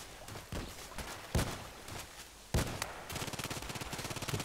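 Shotgun blasts in the shooter game Contract Wars on the Lighthouse map: several loud, sharp booms spaced about a second apart, followed by a rapid rattling burst of automatic fire.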